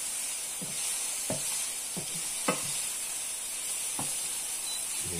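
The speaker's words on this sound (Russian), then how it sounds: "Паприку уже добавим в чайную ложку сверху. Сейчас мы это все размешаем." Chicken and mushroom pasta sizzles steadily in a frying pan as paprika is stirred in, with several scraping strokes of the spoon over a constant hiss of frying.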